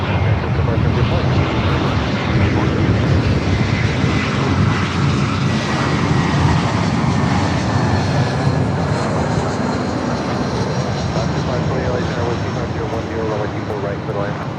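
A JetBlue jet airliner departs Los Angeles International Airport with a loud, continuous engine roar that holds steady throughout, overlaid by radio chatter and voices.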